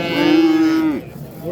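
A heifer at the Qo'shtepa Qumtepa livestock market in Fergana lets out one long, loud moo close by, then it stops abruptly into quiet market background. No one speaks.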